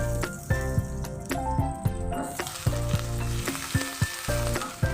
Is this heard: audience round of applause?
no